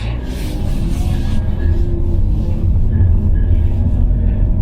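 Steady low engine drone heard from inside a 2025 Hyundai Elantra 1.6 GL as it pulls away, building slightly in strength as the revs rise, with no talking over it.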